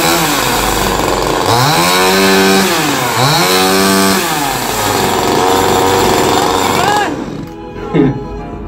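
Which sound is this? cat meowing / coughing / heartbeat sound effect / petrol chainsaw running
petrol chainsaw running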